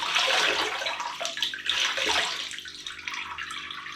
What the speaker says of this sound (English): I'm going to wring it out a bit